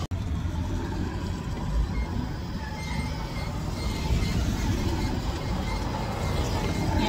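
Steady, fairly loud road rumble from inside a car on a drive home through a residential area in Iloilo, continuous engine and tire noise with no talking.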